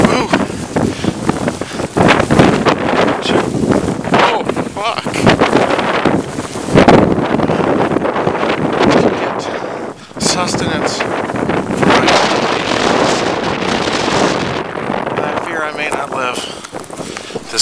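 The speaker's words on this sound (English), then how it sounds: "Blizzarding. I am trudging through the Arctic wastelands" Blizzard wind in wintry Illinois buffeting a handheld microphone, a loud continuous roar and rumble with gusty surges, heard alongside a person talking and footsteps trudging through snow.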